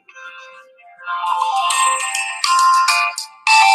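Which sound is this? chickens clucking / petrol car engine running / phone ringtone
phone ringtone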